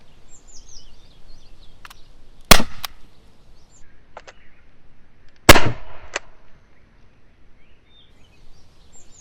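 Rubber steel ammo fired at a coconut gives two sharp, loud cracks several seconds apart, each with a short clattering tail, over a quiet outdoor background with faint bird calls.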